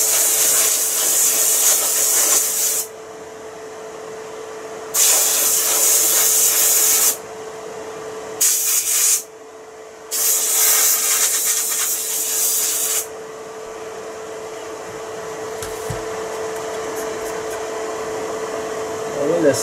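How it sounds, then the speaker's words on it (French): Compressed air blasts in loud hissing bursts, three long ones and a short one with pauses between, as dust is blown out of a television terminal being restored; a steady background hum runs throughout. "Ensuite, je vais y aller avec de l'air comprimé."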